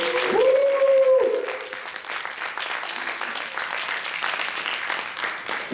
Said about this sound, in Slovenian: In še en lepši aplavz za vse nastopajoče.